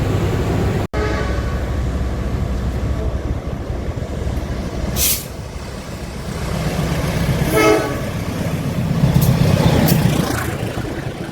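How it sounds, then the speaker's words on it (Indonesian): A Manahan passenger train passes through Gombong station, a sustained loud rolling rumble with a sharp horn blast and a later squeal rising over the passage. "itu dia kereta api Manahan yang menyusul kereta api Joglo Semarkerto tepat di stasiun Gombong"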